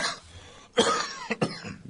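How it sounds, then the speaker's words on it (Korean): Close-up harsh coughing: one strong, rasping cough followed by two shorter, quick coughs. "1분이 멀다 하고 나오는 기침입니다"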